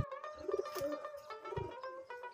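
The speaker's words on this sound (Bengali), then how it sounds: "দেখেন সবগুলা কবুতর খোপের সামনে বসে রয়েছে, রোদ পোহাইতেছে।" Pigeons gathered in front of their loft coo softly, with a couple of low, rounded calls close by and faint background bird sounds throughout this short moment.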